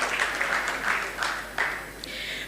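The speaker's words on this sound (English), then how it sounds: "A very round, loud applause." Conference audience applause, a moderate spread of clapping with a few sharper individual claps standing out, heard alone and fairly near for a couple of seconds.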